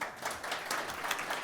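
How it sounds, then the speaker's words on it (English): Summit audience applause at a regional broadband and innovation event, a dense, even patter of many hands clapping at a distance throughout a short stretch, with no voices on top. "maybe we can keep the applause to the end"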